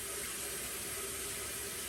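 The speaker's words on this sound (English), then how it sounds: "I'm going to give my hand a quick rinse real fast" Tap water runs steadily into a kitchen sink as a chocolate-covered hand is rinsed while making peppermint bark, a continuous close, even hiss throughout with no talking.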